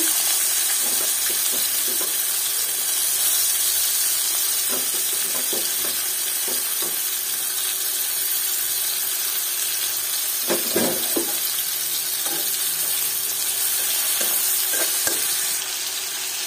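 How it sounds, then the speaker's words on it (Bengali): Steady oil sizzle from onions frying in a wok, with occasional clinks and scrapes of stirring throughout. "এখন একটা কড়াই নিয়ে এর মধ্যে বেশ কিছু পেঁয়াজ দিয়ে দেব"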